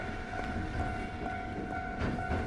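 A video-game train rolls through a railroad crossing: a steady rumble with a sustained tonal drone and faint rhythmic clicks of the wheels, continuous and fairly near, with no voices.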